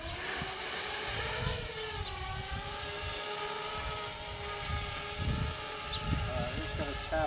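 A Parrot Bebop quadcopter drone lifts off with a steady, close, high-pitched whirring buzz from its propellers, holding its tone over low outdoor rumble and handling noise.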